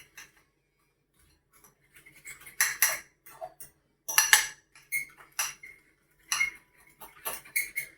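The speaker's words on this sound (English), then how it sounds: "Just mix that really well." A utensil stirs food in a bowl while chicken lo mein is prepared, making irregular bursts of clinks and scrapes separated by short pauses. It is close and fairly quiet, with no talking.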